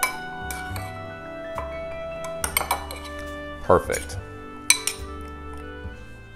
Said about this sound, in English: Now, I'm going to mix my meatballs in the marinara sauce.